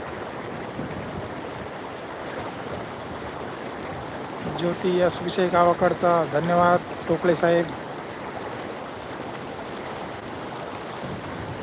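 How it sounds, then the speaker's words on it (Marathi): A rain-swollen stream rushes steadily past farmland, a constant close wash of flowing water, with a voice speaking briefly over it midway. "पाण्याचा प्रवाह बघू शकता तुम्ही"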